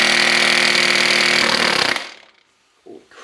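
A 700 foot-pound Craftsman impact gun hammers on a stuck fastener on an Acura during timing belt work, a loud, rapid rattling burst for about two seconds that then stops, followed by a faint short knock.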